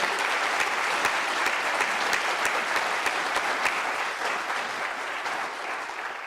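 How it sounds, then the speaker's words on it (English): Sustained audience applause at an investiture ceremony, dense and even, fading slightly toward the end with no speech over it. "we would like to give one more round of applause to all our colleagues"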